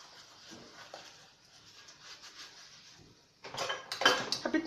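Kitchen dishes being washed: a soft watery patter first, then louder clattering of plates, pots and cutlery close by in a bursty, irregular rhythm.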